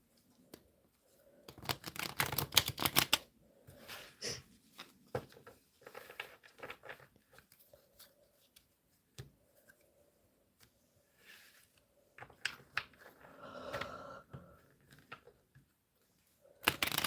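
Tarot cards shuffled by hand in quiet bursts, brisk riffling and soft flicks separated by pauses, close by and fairly faint, with no talking.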